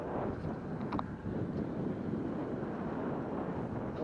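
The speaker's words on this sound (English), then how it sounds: "Unfortunately, the wind has picked right up." Wind buffets the microphone at a seaside fishing spot on the UK coast, a steady loud rumbling roar that continues without break throughout.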